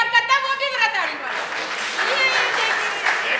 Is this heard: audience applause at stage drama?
yes